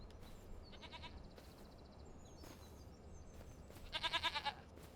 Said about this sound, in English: It's so nice just seeing the goats here.